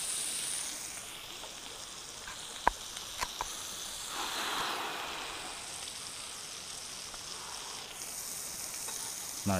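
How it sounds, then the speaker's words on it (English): Food sizzles and fries in a pot on an outdoor grill at a cookout, a steady faint hiss with a few small clinks and pops over quiet background. "we're doing this on this grill and we fry anything in this"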